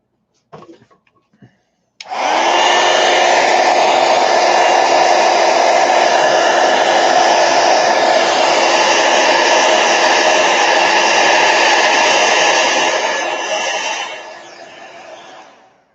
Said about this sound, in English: Oops, that's not dry enough. Let me dry it real quick.